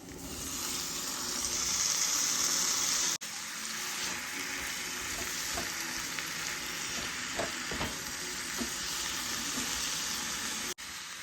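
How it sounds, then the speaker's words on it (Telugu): Salt-water-washed mushrooms fry in a pan for mushroom fried rice, a continuous loud sizzle with scraping stirs of a spoon mixing them through the masala, plus a couple of abrupt cuts. "ఇప్పుడు బాగా ఉప్పు నీళ్ళతో కడుక్కున్న మష్రూమ్స్ వేసుకోవాలి"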